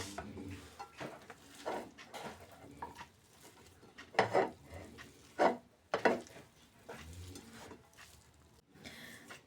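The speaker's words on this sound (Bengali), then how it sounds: "এবার ভালো করে মিক্স করে নিচ্ছি।" Chickpea flour is worked into a chicken shami kebab mixture in a bowl, with wet squelching and mashing strokes, a few louder utensil knocks against the bowl, and quieter pauses between them.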